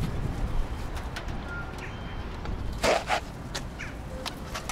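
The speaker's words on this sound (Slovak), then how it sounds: "Skoro na mňa vletel tento holub." Pigeon in a busy city spot in Riga, Latvia, gives a couple of soft coos and a brief flutter of wings close by, over steady traffic and street ambience with faint other birds.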